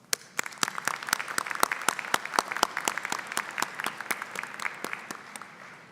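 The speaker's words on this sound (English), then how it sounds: "Please give all of those who have supported you during these important years a round of applause." An audience at a university graduate commencement ceremony applauds, a sustained wave of many hands clapping in a large hall, steady and then gradually tapering off.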